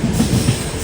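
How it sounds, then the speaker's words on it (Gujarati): Rajkot Express overtaking the Janmabhoomi Express, a loud, close, steady rumble of rolling coaches with a light clickety-clack of wheels on the rails and no voices during the short stretch. "આપણી સામેની સાઈડ તમે જે ટ્રેન જોઈ રહ્યા છો તે 19:10:07 ભાવનગર ટર્મિનલ્સથી ચાલીને ઉધમપુર સુધી જતી જન્મભૂમિ એક્સપ્રેસ છે, જેને આપણી ટ્રેને ઓવરટેક કર્યો છે."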